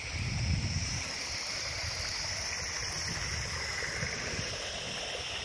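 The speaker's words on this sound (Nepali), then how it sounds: "यहाँ माथि चाहिँ पानी बगेर आइरहेको छ" A hill stream in Bhojpur, Nepal, flows along the Mundum Trail with a steady, soft rushing of water and a low rumble that is a bit stronger at the start; no voices.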